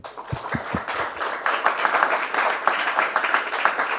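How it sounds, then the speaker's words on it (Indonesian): An audience applauding at a closing ceremony for a calligraphy and applied arts school, with steady clapping that keeps going throughout at moderate volume. "Oke, beri aplaus dong."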